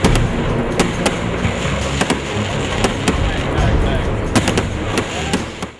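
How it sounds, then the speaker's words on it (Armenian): Fireworks display bursting over the city of Vanadzor at night during an Independence Day celebration, a steady crackling roar punctuated by sharp pops and bangs throughout, with crowd noise underneath. "օրվա ավարտին Վանաձորյան երկինքը պայծառ գույներով լցրեց շքեղ հրավառությունը"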